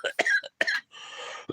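A person coughs in a few harsh, separate bursts, close and fairly loud, with a short throaty rasp trailing off before one last brief cough.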